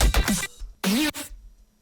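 An elephant synth recreated in Serum: two loud, gritty bursts with a sliding, trumpeting growl, each about half a second, separated by a short gap, with no talking.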